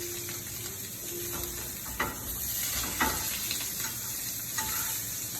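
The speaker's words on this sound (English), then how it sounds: "So they're seared on that side. We're gonna flip them. Really nice sear marks." Shrimp searing in a hot pan as a small restaurant-kitchen appetizer batch, a steady close sizzle and hiss with a few sharp crackles and spatters.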